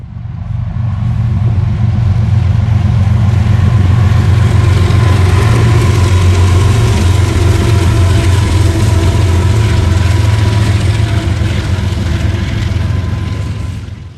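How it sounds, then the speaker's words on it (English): CSX hotshot freight train I-008 with its diesel locomotives running eastbound on the Indy Line, a loud, steady low engine rumble that holds evenly close by for the whole stretch with no pause. "we see hotshot train I-008 heading eastbound on the Indy Line"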